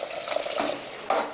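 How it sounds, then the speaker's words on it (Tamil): Ingredients stirred and sautéing in a pan on a home stove, a soft continuous frying and scraping texture that swells briefly near the end, with no talking. "இப்போ இதை வந்து கொஞ்ச நேரம் வதக்கிட்டு தேவையான அளவு தண்ணி ஊற்றி நல்லா வேக வைக்கணும்."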